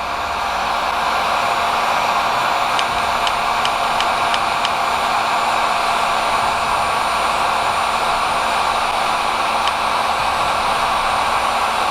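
A Wagner Furno 750 heat gun set to 1030 degrees blows hot air at a large butt connector, making a constant loud whooshing hiss close by, with a few faint ticks in the background.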